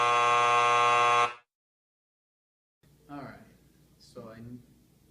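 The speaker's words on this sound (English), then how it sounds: "feel pretty frustrated that Jessica didn't come and take care of her IV alarms." An IV pump alarm in the Project Nurse video game sounds as a loud continuous electronic buzz for about a second, then cuts off; after a pause, a voice speaks.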